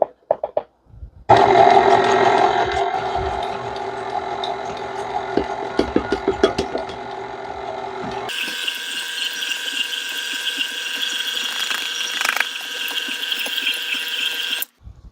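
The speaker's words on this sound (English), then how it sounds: "Now, we're going to start mixing in our dry mixture. We probably will only be able to do some of this in the mixer" An electric mixer works dry ingredients into chocolate Andes mint cookie dough, a loud continuous motor whir with rattling knocks early on, then a shift to a higher, steadier whine that runs to the end.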